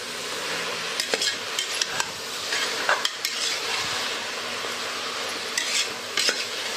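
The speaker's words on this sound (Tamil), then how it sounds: "எல்லாம் ரெண்டும் சேர்ந்து நல்லா வதங்கட்டும்" Chicken biryani masala sautéing in a pot, a loud, steady sizzle broken by frequent clinks and scrapes of a stirring spoon against the metal.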